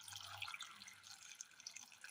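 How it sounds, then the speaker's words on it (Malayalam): Water poured from a tap into a cooking pot holding two medium carrots and an onion for a curry, a steady splashing trickle throughout with no talk. "ഇതിലേക്ക് വേകുവാൻ ആവശ്യമായ വെള്ളം ഒഴിച്ചു കൊടുക്കാം"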